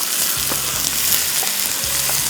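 Large pieces of chicken fry in a pan with a steady, close broadband sizzle; low background hum pulses in sits underneath, and no one speaks.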